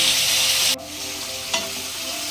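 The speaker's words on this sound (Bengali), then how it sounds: "এবার এই বাটারের মধ্যে আমি প্রথম যেটা দেবো সেটা হচ্ছে চিকেনের পিসগুলো।" Chicken pieces hit hot butter in a pan with a loud, hissing sizzle that cuts off suddenly, then a single sharp clink and a softer, continuing fry.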